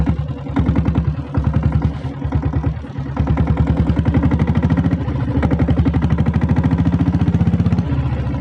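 A 7.5 HP diesel Bullet motorcycle engine runs close by with a loud, rhythmic thumping chug, briefly dipping around the three-second mark before settling back into a steady, slightly quickening beat.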